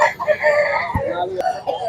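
A rooster crows loudly up close at a country-chicken market, its call rising and falling, with other fowl clucking around it.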